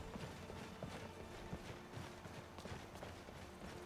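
Horse hooves clip-clop in a quick, uneven rhythm over a steady background, faint and somewhat muffled, in the video game Skyrim.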